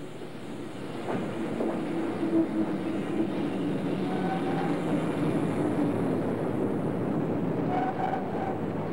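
A passenger train on the Trans-Siberian route rumbles steadily along the rails with a low continuous roar and faint metallic squeals, heard from inside at moderate volume without any talking.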